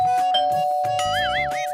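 A doorbell at a house door in a sitcom scene rings with a sustained electronic tone, followed by a warbling chime melody, loud and clear with no talking over it.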